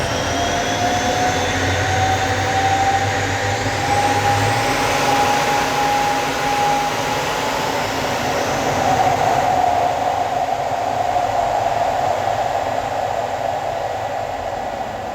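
An M-346N fighter jet takes off with the throttle pushed forward, a loud continuous roar and rushing whine that rises in pitch and stays steady throughout, with no talk.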